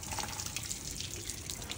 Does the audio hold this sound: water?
yes